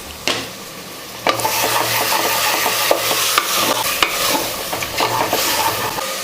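Chopped tomatoes sizzle in hot oil in a pressure cooker while being stirred for chicken masala biryani, a steady frying hiss broken by scraping strokes and light knocks of the spoon against the pot.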